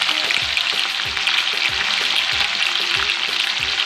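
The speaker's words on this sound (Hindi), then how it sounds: "अब हम इसमें गोभी ऐड करेंगे, इसको भी हल्का सा फ्राई कर लेंगे।" Cauliflower sizzling lightly in a pan for a mixed vegetable sabzi, with a constant close frying hiss and occasional soft knocks of stirring.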